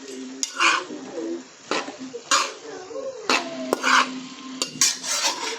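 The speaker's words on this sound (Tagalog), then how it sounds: "So, so, ihalo na natin ulit." A spoon scrapes and clanks against a pan while a sautéed chayote vegetable dish is stirred, in short repeated bursts with light sizzling and a voice talking in between.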